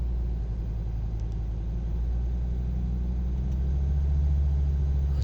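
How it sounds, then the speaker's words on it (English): A car engine revs hard as the throttle is stamped down, a steady loud low rumble that swells toward the end, with no voices. "So when I stamp down on the throttle,"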